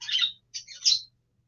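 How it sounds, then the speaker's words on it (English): Birds chirp outdoors in a few bright bursts of twittering calls, two or three short phrases separated by brief pauses, clear and moderately close. "Okay, I hear birds."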